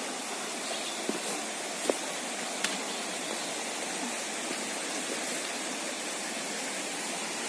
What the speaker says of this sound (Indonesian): Ini saya gambarkan Sungai Bangu ya.